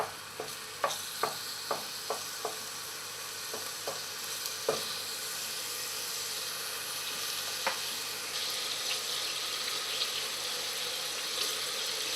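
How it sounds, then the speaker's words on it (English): Lardons frying in a pan as their fat renders for a venison casserole: a steady, close sizzle, with a few sharp scrapes and taps of stirring early on. "I want the fat to render out of those a little bit."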